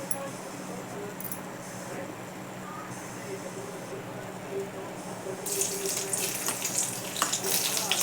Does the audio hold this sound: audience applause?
no